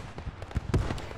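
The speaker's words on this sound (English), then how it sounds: "that big heavy 6-pounder, the British 6-pounder" A British 6-pounder anti-tank gun fires in a WWII combat game set during Operation Market Garden at Nijmegen, producing several loud, sharp blasts with booming tails that close together in a short burst.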